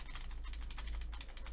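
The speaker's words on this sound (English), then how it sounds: "you can probably hear how much I'm tapping the keyboard here to go slide by slide" Quiet, rapid taps on a computer keyboard advancing presentation slides, a steady run of light clicks with no talking.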